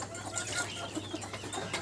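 Farm chickens cluck repeatedly while drinking vaccine-treated water, close and continuous over a dense background of bird noise for a short stretch.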